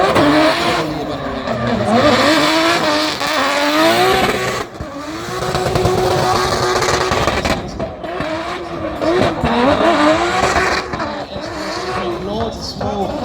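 A drift car at the Bishopscourt Summer Showdown circuit screams through a slide, its engine revving up and down in wavering pitch as the clutch is worked, with tire squeal and a commentator talking over the loud, close roar.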